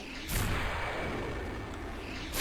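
An explosion in the video game Dark Souls sets off a sudden rumbling blast that swells into a sustained, fairly quiet roar, followed by a fresh burst at the very end.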